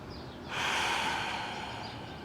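A single long exhale during a yoga stretch, a soft airy breath that starts suddenly and fades slowly over about two seconds, close and gentle, with no talk.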